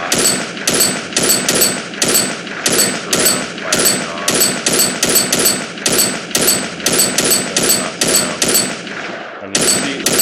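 Rapid bursts of gunfire from a third-person shooter video game, loud and close, repeating in quick volleys with brief gaps throughout, and a short pause near the end before the shooting resumes.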